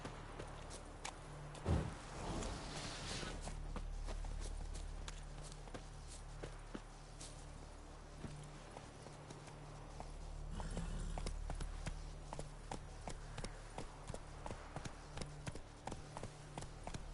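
Hooves of a horse in the video game Witcher 3 clop at a walking pace, then break into a faster galloping rhythm, close and moderately loud over quiet game ambience.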